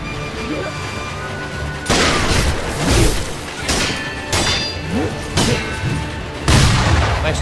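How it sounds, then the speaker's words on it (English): Loud booming gunshot blasts and impacts in the Sekiro PC game, several sharp broadband bursts at irregular intervals over a background of combat sound. "Nice gunshot, you shitter."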